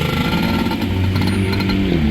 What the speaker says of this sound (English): This is the first motorcycle that I've seen.